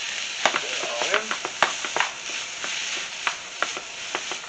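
Garlic and dipping sauce ingredients fry in a pan with a steady, close sizzle broken by irregular scraping stirs and a few sharp clicks of a utensil against the pan.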